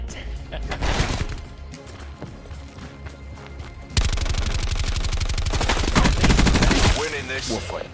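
Gunfire in the video game Black Ops 4 multiplayer: scattered single shots give way to a loud, rapid automatic burst that rattles continuously for about three seconds before cutting off.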